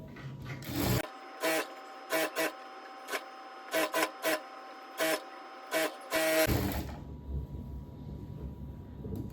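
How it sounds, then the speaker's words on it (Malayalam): A sewing machine stitches a churidhar with a double stitch in short bursts of rapid mechanical whirring, separated by brief pauses, then runs in one longer stretch before stopping and leaving a low background rumble. "ഇത് തയ്ച്ചു കൊടുത്തിട്ടുണ്ട്. നമുക്ക് ഡബിൾ സ്റ്റിച്ച് കൊടുക്കാം ഇവിടെ."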